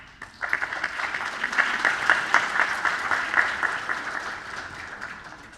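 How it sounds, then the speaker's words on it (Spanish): An audience at the end of a metallurgy lecture breaks into applause, a sudden onset of steady, fairly close clapping from many hands that swells, holds for several seconds and then thins out. "Un aplauso"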